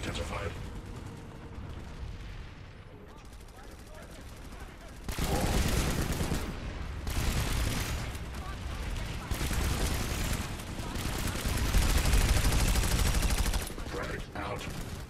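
A Canis weapon fires in a PS4 shooter, first in quieter scattered shots, then in long, loud, rapid automatic bursts that continue to the end, with game voices faintly in the mix.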